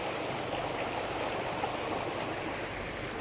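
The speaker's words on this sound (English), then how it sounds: "And there's quite a water flow." A strong flow of water rushes over rocks at the far end of a Port Hacking arm near Sydney, a steady, loud broadband roar heard close up with no voices.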